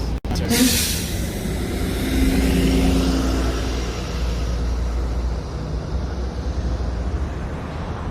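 A bus passes on a street near the University of Michigan in Ann Arbor, a low, rumbling engine and road roar that swells early and then eases off steadily, with a sharp click at the start.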